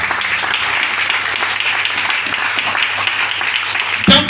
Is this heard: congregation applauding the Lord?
yes